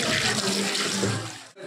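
Water runs steadily from a wash basin tap in a dining place, a continuous close hiss that cuts off abruptly near the end.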